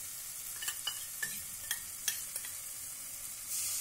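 Masala with ginger paste being sautéed in a pan for sambar dal: a low, steady sizzle close by, with a few sharp clicks and scrapes from stirring spread through it, and no talking.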